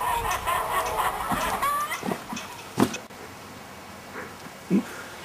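Hens clucking close by inside a henhouse, a run of short clucks and squawks with a couple of louder bursts near the end.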